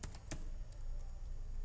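Faint keystrokes tap on a computer keyboard as a password is typed while installing Arch Linux, a few quick clicks early on and then soft background hiss.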